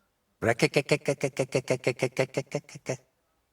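A voice in Kingdom Come: Deliverance II mimics a toad's croak in a quick rhythmic series of about fifteen throaty pulses, close and fairly quiet.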